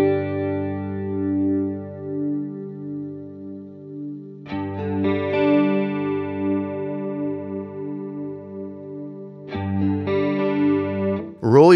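Sustained electric guitar chords through a chorus pedal set with depth at 10 and speed at zero, two long ringing strums with a fresh attack near the end, no talking.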